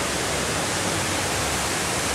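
Steady broadband rushing of a waterfall at the Atlantis resort on Paradise Island, Bahamas, constant and fairly loud, with no pauses or voices.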